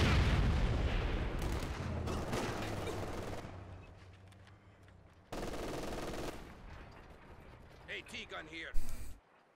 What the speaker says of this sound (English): those mortar shells from the US mod don't look like they're doing too much more than regular